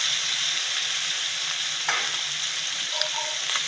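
Canton bihon noodles with shredded cabbage stir-fried in a pan, giving a steady close sizzle with occasional scraping and stirring clicks, and no talk.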